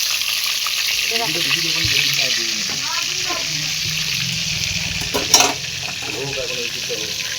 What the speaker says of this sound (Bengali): চলো একটা মাছের মাথা আছে, মাথাটা ভেজে নিই।